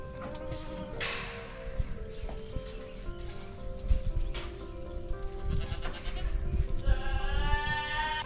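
Goats on a meat goat farm bleat repeatedly, with several loud, wavering calls from close by over a background of shuffling, hoof clatter and general barnyard noise, and no talking.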